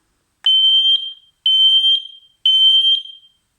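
A smoke alarm shrills in three loud piercing beeps during a test, each about a second long with short silences between, close and alone.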